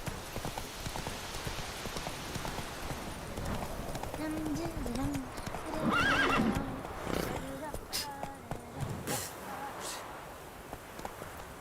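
Video game horse hoofbeats clip-clopping at a run in Apex Legends, with a whinny rising midway, under steady game sound and someone talking throughout.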